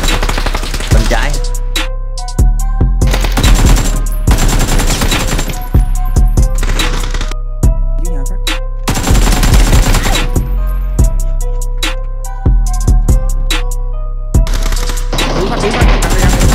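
Rapid automatic gunfire in the battle royale game PUBG, loud and close, coming in dense bursts separated by short gaps, over a constant low rumble and ringing in-game sound.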